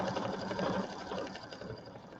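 An embroidery machine sews out a wreath placement line on fabric with matching embroidery thread, giving a steady, close, continuous buzzing whir with fast needle chatter and no pauses.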